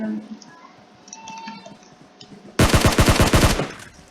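A rapid burst of automatic gunfire in the mobile battle royale game PUBG Mobile bursts in loud and close after a quiet stretch of faint game ambience and clicks.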